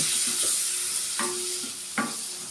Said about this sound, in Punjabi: ਟਮਾਟਰ ਨੂੰ ਹੁਣ ਆਪਾਂ ਭੁੰਨਾਂਗੇ